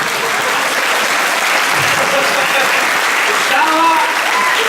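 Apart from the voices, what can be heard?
audience applause in church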